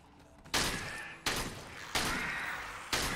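Gunfire in the Dead Frontier 2 zombie shooter game, a few loud, sharp bursts about a second apart, each one decaying into a sustained rushing tail, with no talking.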